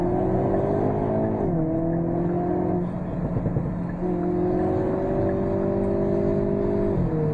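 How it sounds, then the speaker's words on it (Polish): Hyundai Kona N with its 2.0 T-GDI turbo engine and 8-speed dual-clutch, revving steadily with rising and falling pitch, a brief dip around the middle as it shifts, loud and close with no talking. "Kona N nie brzmi jak i30N, ale mimo wszystko brzmi bardzo dobrze"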